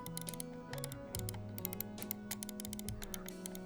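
Omron microswitches on a DM7 Switch Duo DreamPad control surface give short, crisp clicks in quick, irregular bursts, close and distinct, over a steady low tonal hum with no talking.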